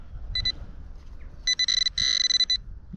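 A metal detector sounds over a buried target in a field, one short high electronic tone followed by a longer run of rapid, warbling beeps, clear and close with no talk.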